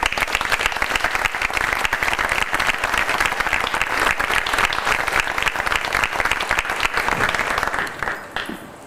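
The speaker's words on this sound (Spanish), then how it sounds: "también la recibimos con un caluroso aplauso." Audience at a conversation forum welcomes a senator with warm, sustained applause, dense and even clapping that fades out at the end.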